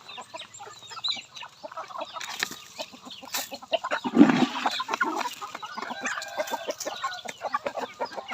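A flock of over a hundred free-range village chickens clucking busily nearby, with a rooster crowing loudly partway through among the overlapping calls.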